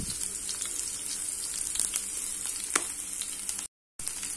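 Mustard seeds splutter in hot oil, a steady crackling sizzle with scattered pops and one sharper burst, close and fairly loud, broken by a brief dropout near the end; no talking.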